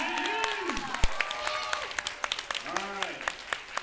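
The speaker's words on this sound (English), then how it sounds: "One more round of applause for Jenny!" Audience applause at a fursuit dance competition during a furry convention, crowd clapping and cheering underneath an amplified announcer's voice, with scattered sharp claps standing out as he speaks.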